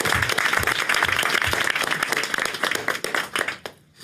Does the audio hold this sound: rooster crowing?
no